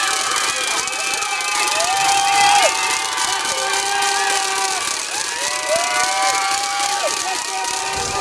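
Crowd cheering and shouting for canoe racers reaching the finish line of La Ruta Maya river race in Belize, a steady dense roar with bursts of whistles and voices throughout.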